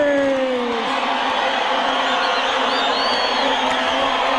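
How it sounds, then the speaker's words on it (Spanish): A wrestling arena crowd at a lucha libre show jeers the referee Tirantes, a dense, steady roar of many voices with scattered whistles and shouts sustained throughout, loud and close. "nada más escucha el abucheo"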